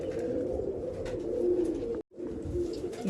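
A large pure-bred Babe Jante Wali pigeon coos in a low, steady, throaty rumble for about two seconds. The cooing breaks off briefly and then resumes. No one speaks.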